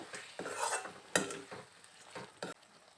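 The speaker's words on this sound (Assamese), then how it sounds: "এয়া 5 মিনিটৰ পিছত আকৌ ঢাকনখন উদঙাই অকণমান লৰাই দিম।" A spoon stirs chicken curry with banana flower in a metal pot, making a few distinct scrapes and clinks against the pan over a soft sizzle.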